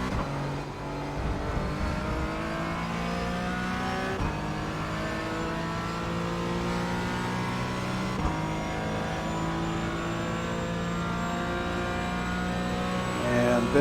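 Race car engine in the iRacing sim at Sebring, held at high revs with wheel spin on corner exit, a steady loud drone with rising harmonic sweeps throughout, alone without talk.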